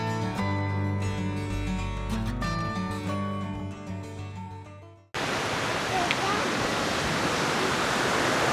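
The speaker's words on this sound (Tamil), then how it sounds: "இங்கே தண்ணி போயிட்டுருக்கு பாருங்க, பியூட்டிஃபுல்லாக." On a Seychelles island, a waterfall rushes in a steady, dense roar after music cuts off abruptly midway, the water filling the second half loud and close.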